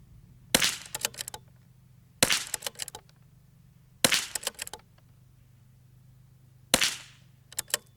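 Four sharp .22 LR rifle shots from precision target ammunition crack out at irregular intervals close to the microphone, each followed by a brief ringing echo over a low steady hum.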